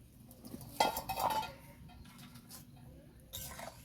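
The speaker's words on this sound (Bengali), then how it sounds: "এখন আমি চাপাটা খুলে দেখে নেব চিকেনটা সিদ্ধ হয়েছে কি না" Quiet metallic clinks and a short clatter come from a lid being lifted off a pot of boiled chicken, followed by a softer clink a few seconds later against faint kitchen background noise.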